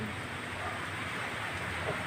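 Heavy rain pouring down in wind, a dense, uniform rushing hiss that stays steady and fairly close, with no clear voices over it.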